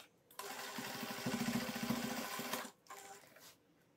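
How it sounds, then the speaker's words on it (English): A sewing machine bastes a seam in a fast, steady mechanical whir for about two seconds, then stops and gives a short second burst; close and clear. "Go to the sewing machine and baste it with a 1/8."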